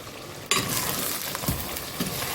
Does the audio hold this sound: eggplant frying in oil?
yes